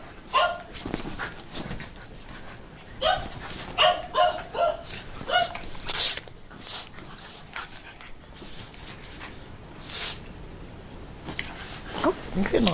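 A puppy and a Shiba Inu playing together, with repeated short yips, barks and panting in bursts, close by, while a person talks over the play.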